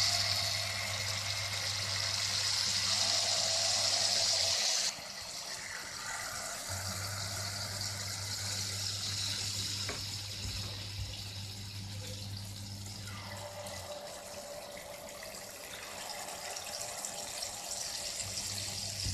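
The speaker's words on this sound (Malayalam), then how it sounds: "ഇനി ഇതിലേക്ക് ബാറ്റർ ഒഴിച്ച് അപ്പം ചുട്ടെടുക്കാം" Unniyappam batter goes into hot oil in a non-stick unniyappam pan, giving a continuous close hiss and bubbling that stays steady, slightly louder at the start and easing a little after.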